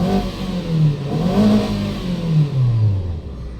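Engine of a 2020 Toyota Vios with low power and a rough idle, heard up close as a loud, uneven drone whose pitch rises and falls and wavers rather than holding steady.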